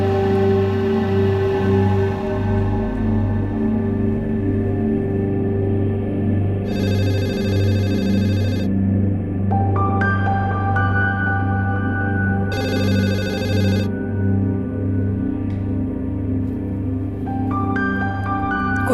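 A telephone rings on and on with no one answering, its repeated bursts of ringing standing out over a steady low background hum, with no voices.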